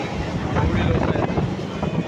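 A crowded train near Vashi, Mumbai, gives a dense, steady rumble and wind roar heard from inside a carriage throughout, with faint voices mixed into the noise.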